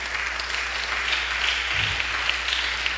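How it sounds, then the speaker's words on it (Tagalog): A church congregation applauds during a midweek service, with steady, dense clapping at even volume throughout. "Palakpak natin."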